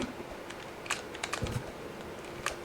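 Quick, irregular clicks of keys being typed on a computer keyboard, close by and fairly quiet, with brief pauses between bursts.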